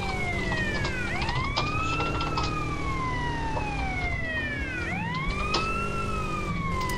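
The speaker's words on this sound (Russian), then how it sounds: "Как сирену выключить, слушай?" Police siren in the video game GTA San Andreas multiplayer (SAMP), a loud continuous wailing tone rising and falling in long sweeps, close and steady throughout with no talking.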